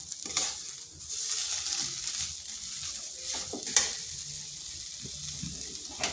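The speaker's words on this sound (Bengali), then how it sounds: "এরপর নুন, চিনি আর আলু ভালোভাবে মিশিয়ে নিচ্ছি।" Potatoes stirred together with salt and sugar in a pan for a vegetarian dish, a steady soft sizzle with scraping stir strokes close by, running throughout with no talk.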